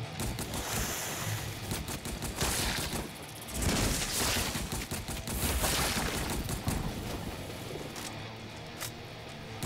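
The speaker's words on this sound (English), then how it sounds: "Okay, machine gun's doing work though." Machine gun fire in the video game ParadiZe: rapid bursts of gunfire rattle over a roaring, surf-like wash of noise, swelling and fading across the stretch with no voices.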